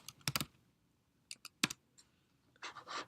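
A few quick keystrokes on a computer keyboard while typing a search query, short clicky bursts separated by pauses with a faster cluster at the end, close and fairly quiet, no voices.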